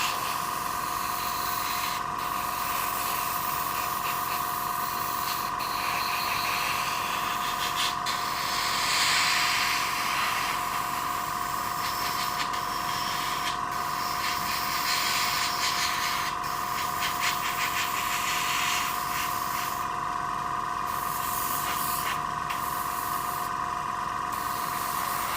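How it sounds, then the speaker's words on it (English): Aerosol primer sprayed onto a resin figure in light coats, a steady close hiss running the whole time with a few short pauses and soft handling rustles between bursts. "Just spray it out there like a spray can"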